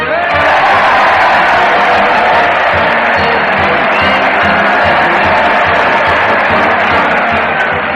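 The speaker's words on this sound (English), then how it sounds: "Just listen to that crowd cheer Fred Allen" A large crowd cheers at an old Town Hall parade in a 1936 radio comedy broadcast, a dense, loud, unbroken roar of voices lasting throughout.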